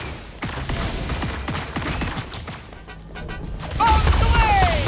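Airstrike explosions in the Marvel Super War video game: a dense barrage of booms and crashing impacts over busy game effects, growing louder and heavier toward the end.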